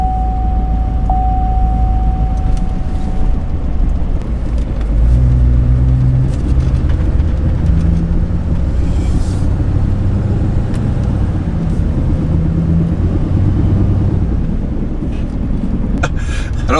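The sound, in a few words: loud 4x4 truck driving with driveshaft vibration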